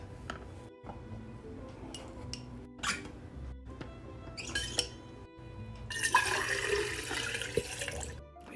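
Ice and water are poured into a Stanley cup, starting with brief clinks and trickles, then a louder sustained rush of water filling the tumbler near the end.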